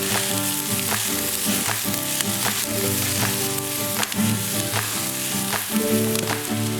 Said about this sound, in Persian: پیاز ما سرخ شده، نوبت مرچ دلمه است.